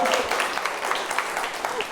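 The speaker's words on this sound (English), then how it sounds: "we make these poor people clap their butt off" Studio audience applause on the set of a Halloween baking competition show, a steady broadband patter of many hands clapping that fills the short moment with slight swells.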